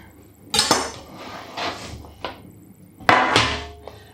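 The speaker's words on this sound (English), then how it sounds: "this is the tray from the air fryer oven" Metal air fryer oven tray handled in a kitchen: a few sharp clanks and scraping clatters spaced irregularly, close and distinct against quiet.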